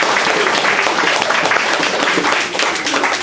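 Church congregation clapping their hands for Jesus during a sermon, a loud, close, continuous burst of many hands with a slight dip midway and no speech over it.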